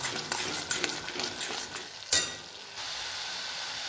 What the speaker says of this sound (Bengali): এইবার আমি এটা 2 থেকে 3 মিনিট ভালো করে একটু কষিয়ে নেব।